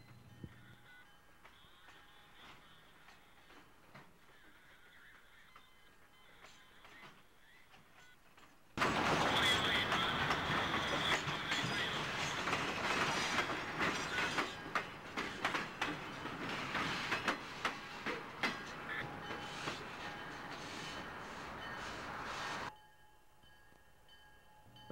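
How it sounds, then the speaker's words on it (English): CSX transfer freight number 1177 moves rolling stock, including a new Pandrol Jackson 6700 unit, past a trackside spot in Grand Rapids, Michigan, in 1991. After quiet ambience, a loud sustained roar of rolling wheels and rail clatter passes close by, then drops away. "Number 1177 transfers rolling stock to the Conrail yard"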